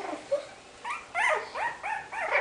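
Puppies at a Thanksgiving gathering make a run of small, rising whimpers and soft whiny yips, several short cries in quick succession, close and fairly clear with no talking over them.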